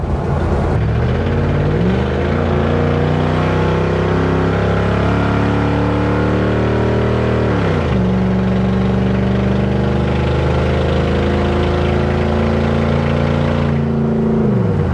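Loud engine of a Toyota Hilux without a proper exhaust, towing a trailer, revving and accelerating close by in rising and falling sweeps, pulling up through the gears with brief drops between shifts.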